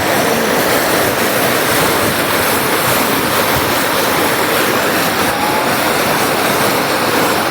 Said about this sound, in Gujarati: ઘૂમરી મારતું પાણી જાય છે